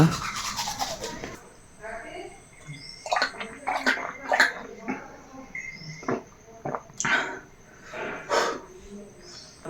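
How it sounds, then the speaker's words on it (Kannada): A toothbrush scrubs teeth at close range in quick, irregular bursts of wet bristle strokes, with brief pauses between them, during a morning routine. "ಎದ್ದ ತಕ್ಷಣ ಬ್ರಷ್ ಮಾಡ್ಕೊಂಡು"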